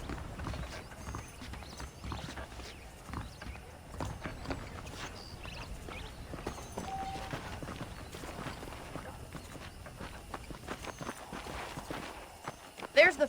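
Horses saddled and walking in a Red Dead Redemption Wild West town, hooves clip-clopping in a steady rhythm with game ambience and voices talking over them, a louder clatter near the end.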